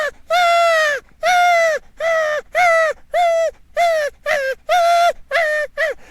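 Nutcracker nestlings in the nest beg for food with about nine loud, harsh, crow-like calls, each close and strident and roughly half a second long, repeated in a steady series with short gaps between.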